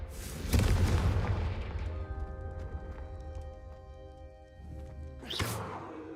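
Confringo fire spell cast in Hogwarts Legacy, a booming fiery blast near the start and a second sharp whooshing burst later, with a sustained musical tone ringing between them.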